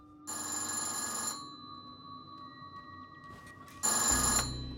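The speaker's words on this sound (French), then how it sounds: "lorsque le téléphone sonne" An old telephone bell rings in two separate bursts about three seconds apart, with a faint hum in the quiet gap between them.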